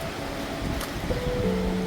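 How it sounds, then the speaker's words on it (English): Steady broadband wind noise rushes and buffets throughout, with a faint tonal hum rising near the end. "Windy day."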